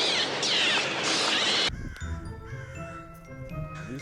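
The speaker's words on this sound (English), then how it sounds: "These crows are going crazy." A flock of crows caws loudly and harshly in a dense burst for nearly two seconds, then drops to fainter scattered calls and light outdoor background.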